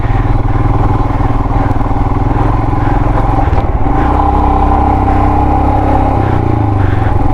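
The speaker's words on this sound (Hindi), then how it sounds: "बाइक स्पीड ही नहीं ले रहा है" A motorcycle strains uphill on the rough mountain road to Sela Pass, its engine loud and close, labouring with uneven revving and a brief dip mid-way before pulling on.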